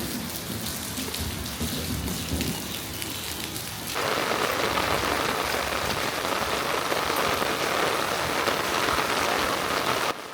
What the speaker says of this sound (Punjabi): ਬਹੁਤ ਤੇਜ਼ ਮੀਂਹ ਸੀ